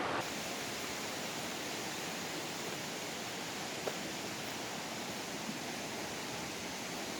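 Deep Creek rushing alongside a leisurely hiking trail toward Indian Creek Falls, a steady, close wash of flowing water that stays even and fairly loud for the whole stretch, with no voices and only a faint tick or two over it.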